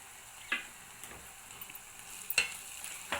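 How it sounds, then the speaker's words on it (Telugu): Ginger garlic paste frying in a pan with turmeric added, for an onion egg curry, giving a soft steady sizzle with a few faint scraping stirs and clinks, no talking. "అల్లం వెల్లుల్లి పేస్ట్ చూడండి బాగా ఫ్రై అయిపోయా దీంట్లోకి పసుపు"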